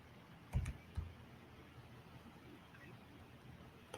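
A few soft, sparse taps of someone typing a product code on a phone touchscreen, two brief clicks close together early on, then quiet room tone with no talking.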